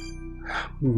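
A mobile phone rings indoors with a steady electronic ringtone, held at moderate level, before a voice cuts in near the end.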